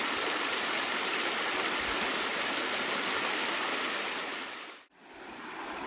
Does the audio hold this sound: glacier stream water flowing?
yes